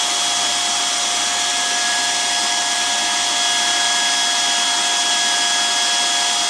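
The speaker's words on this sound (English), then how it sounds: "Plug in the tool and adjust the temperature that you like to use for the welding." A BAK MicOn semi-automatic hot air welding machine blows steadily, a constant close hiss of rushing air with a faint high whine, unbroken and without voices.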